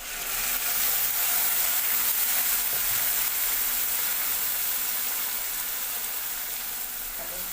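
Broiler chicken meat fries in a pan with a steady, loud, even sizzle that holds without a break throughout.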